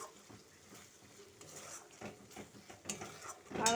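Ground spices (chili, cumin and coriander powder) frying with mustard, ginger, garlic and onion paste, tomato and green chili in a pan for a fish curry, with metal utensils scraping and clinking against the pan in irregular bursts, growing louder toward the end.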